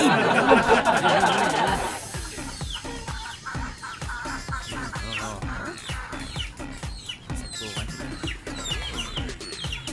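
Chickens clucking and calling close by in a small chicken pen, a burst of overlapping fowl noises at first, then steady clucks and chatter from the flock.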